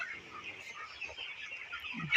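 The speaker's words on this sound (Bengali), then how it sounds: "এগুলো হচ্ছে আমাদের এখন ব্রয়লার মুরগির বাচ্চাগুলা" A crowd of young broiler chicks, about 23 days old, chirps continuously in a soft, high-pitched chorus, heard from a short distance.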